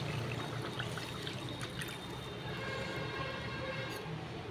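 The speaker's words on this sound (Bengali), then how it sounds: "এর মধ্যে একটু জল দিয়ে দেবো।" Water poured into hot oil in a pan gives a loud, steady rushing hiss throughout, close and unbroken, with no one talking.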